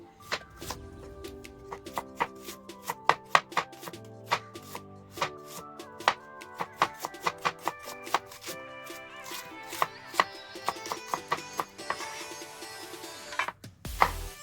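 Knife chopping onion on a cutting board for a home-cooked tomato bath, a long run of quick, crisp close-up strikes with irregular rhythm, with a louder burst near the end.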